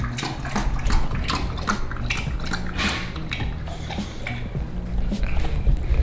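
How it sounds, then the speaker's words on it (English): Wet, irregular gulping and splashing sounds of someone drinking water, close up, with watery clinks and drips throughout. "I'm trying to record and just decides to start drinking water"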